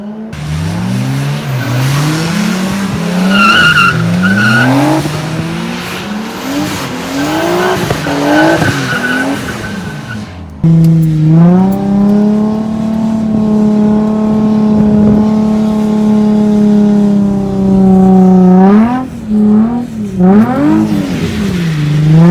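Cars drifting at a drift school, engines revving loud and close with rising and falling pitch while tires squeal in long, wavering screeches, the revs cycling repeatedly as the cars slide through donuts and figure eights.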